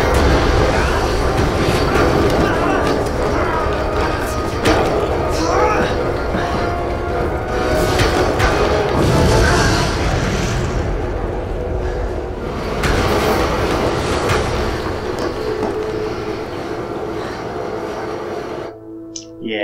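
A train rumbles past in the video game Resident Evil 2, a loud, dense mechanical roar with rattling that runs steadily for nearly twenty seconds before cutting off abruptly at the end.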